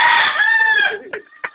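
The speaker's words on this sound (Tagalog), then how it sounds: "Ang lahi ng manok na ito, Brad, talusi." A talusi-breed rooster crows once, loud and close, in a long drawn-out call that trails off, followed by a couple of short clucks.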